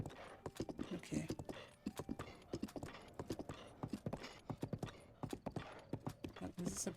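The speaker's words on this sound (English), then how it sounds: "Is this a person with their donkey?" A donkey's hooves clip-clop in a quick, uneven rhythm on the ground in Breath of the Wild, close and steady throughout, while a person talks over the hoofbeats.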